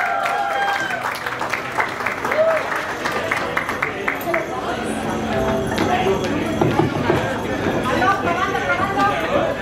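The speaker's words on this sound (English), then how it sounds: "Can you please give a big round of applause for Doris Castro?" A round of applause at a Peruvian quinceañera party, a crowd clapping with rhythmic, clattering hits mixed with crowd noise and voices, continuing at even loudness throughout.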